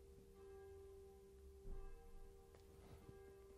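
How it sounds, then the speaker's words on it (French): Church bells ring faintly in the distance, a steady resonant tone hanging under soft room noise with a few small knocks. "Nous entendons les cloches de l'Église en même temps."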